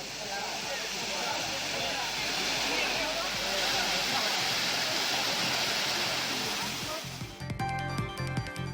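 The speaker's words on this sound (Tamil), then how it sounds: "தேனி மாவட்டம் பெரியகுளம் அருகே உள்ள கும்பக்கரை அருவியில் நீர்வரத்து வெகுவாக குறைந்துள்ளது." Kumbakkarai waterfall near Periyakulam in Theni, running with sharply reduced flow, gives a steady broadband rush of falling water that stays constant throughout and cuts off abruptly near the end.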